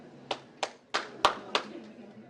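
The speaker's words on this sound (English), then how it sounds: "Please give claps to the board." A few people in a state board of education meeting clap for the board: five separate, sharp hand claps spaced roughly evenly, fairly close, with no other sound between them.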